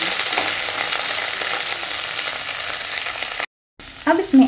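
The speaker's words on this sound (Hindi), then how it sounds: "डालेंगे हम कैप्सिकम, इसे भी सॉटे कर लेंगे" Capsicum sautés in a pan over a low flame, a steady even sizzle that breaks off briefly, then returns with stirring clatter and louder scraping at the end.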